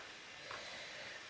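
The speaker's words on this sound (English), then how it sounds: "all I can hear is a hairdryer now" A constant, even whooshing hiss of a hairdryer running nearby, smooth and unbroken for the short stretch.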